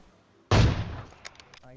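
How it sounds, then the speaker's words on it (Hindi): One loud, sharp AWM sniper shot in a PUBG-style shooting video game bursts out suddenly and fades away over about half a second, followed by a few faint clicks. "जो भी बंदा भगता हुआ दिख रहा है उस पर अंधी फायरिंग बोल देता हूँ"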